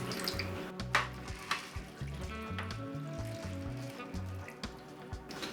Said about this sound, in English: I have 2 cups of water in this measuring cup. We're just going to pour this in the bottom, just like this.